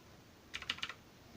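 A Redragon Vara K551 RGB mechanical keyboard is typed on, giving a short quick burst of about four sharp key clicks, close and moderately loud over a quiet room.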